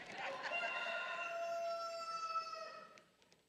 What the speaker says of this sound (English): Just then the rooster crows.